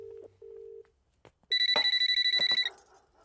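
A telephone rings in a comedy drama: a couple of short electronic tones and clicks, then a loud, rapid trilling ring lasting about a second before cutting off, with faint movement noises after.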